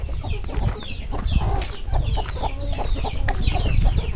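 Newly hatched chicks and grown chickens kept at home, cheeping and clucking steadily throughout, with high chirps layered over lower clucks and no talk.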